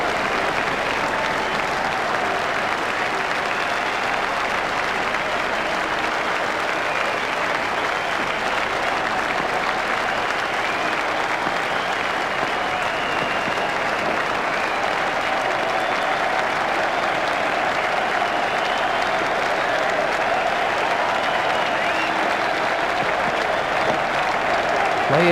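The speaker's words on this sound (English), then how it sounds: "Crowd are giving him a great round of applause as they appreciate the importance of this knock." A cricket crowd at a Test match between England and New Zealand applauds a century with sustained, even clapping that holds steady at full strength from start to finish.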